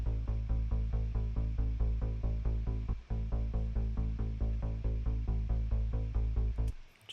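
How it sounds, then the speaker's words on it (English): A plucky synth line for an arrangement, its filter cutoff automated, lightly reverberated, with lows boosted and highs cut, plays a steady, fast stream of evenly spaced notes, loud and alone for about seven seconds before a brief fade. "just automated the cut off to make it sound like it's plucking."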